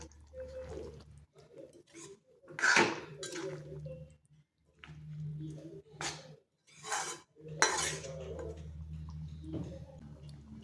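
Sautéed paneer, capsicum and onion stirred together in a cooking pan, with intermittent metallic spoon clinks and scrapes in short bursts separated by quiet gaps.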